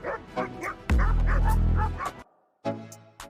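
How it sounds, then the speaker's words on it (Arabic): An injured dog on a road whimpers and yelps, then gives one long, loud whine before a short pause and a final cry. "القطتين دول بيحاولوا يخلوا صديقهم الكلب المصاب ده إنه يعدي الطريق بأمان."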